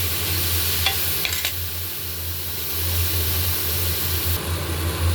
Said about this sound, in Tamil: அதையும் நல்லா வதக்கிக்கோங்க.